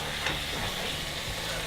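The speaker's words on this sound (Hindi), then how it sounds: "देखिए ये अभी उबल रहा है।" Chicken pieces cooking down in a pot as the water dries off and the rendered fat begins to sizzle, a steady, dense hiss with faint stirring, close and continuous, no voices.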